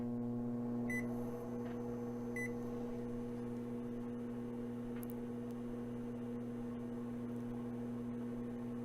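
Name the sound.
Smeg over-the-range microwave oven running after Add 30 seconds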